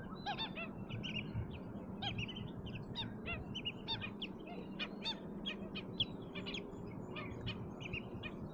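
Pied stilts calling repeatedly in a flock, a dense stream of sharp yelping yips and chirps at moderate distance over a steady low wind-like background, with no talking.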